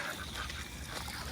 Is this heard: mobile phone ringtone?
no